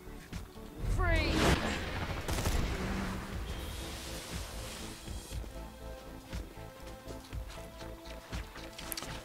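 Spider ants firing guns in the shooter game Borderlands 3, rapid bursts of gunfire and impacts crackling through busy combat noise, with a sweeping effect early on.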